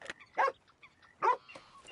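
A dog barks in a video game, two loud sharp barks spaced about a second apart, with quieter yips and whimpers in between.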